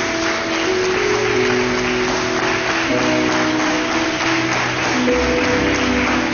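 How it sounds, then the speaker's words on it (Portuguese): A church congregation claps together, a loud, sustained wash of applause with musical tones and voices beneath. "vamos dar uma salva de palmas ao Senhor"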